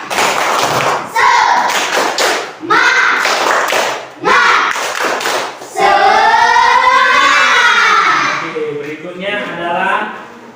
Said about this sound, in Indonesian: tepuk semangat dulu kita